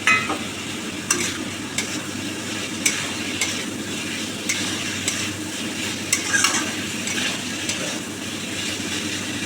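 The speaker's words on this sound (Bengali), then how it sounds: "এবার আলুগুলো দিয়ে একটু কষে নিতে হবে" Potatoes are stir-fried in spices in a pan, with a continuous sizzle and repeated scraping, clattering strokes of a spatula at an irregular rhythm, close and fairly loud.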